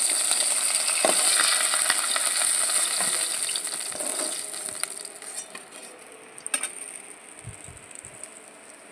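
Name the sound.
chital fish frying in oil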